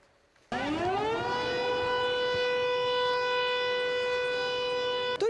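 A civil defense air raid siren from a newly installed warning system in Ukraine's Cherkasy region starts abruptly, winds up in pitch within about a second, then holds a loud, steady wail without talk.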